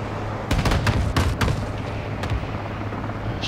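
An armored personnel carrier firing in Call of Duty: Modern Warfare 2 (2022), a cluster of heavy booming shots in quick succession, then a lone report, over a dense, continuous battle rumble.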